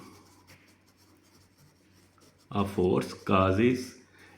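Teacher writing a definition of force on a board during a physics lesson, soft scratching and rubbing strokes in short bursts, followed by someone speaking loudly over the faint writing.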